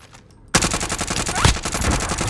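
Rapid automatic gunfire in Call of Duty: Modern Warfare starts abruptly and continues as a loud, close, steady rattle of shots.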